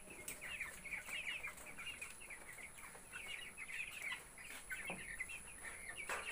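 Many small young chickens with colds peeping and cheeping continuously, high and chirpy, with occasional soft rustling and clucks from a nearby brood.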